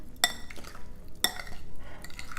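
Bruschetta topping being mixed in a bowl, with two sharp utensil clinks against the dish amid softer scraping and stirring sounds, close and fairly quiet.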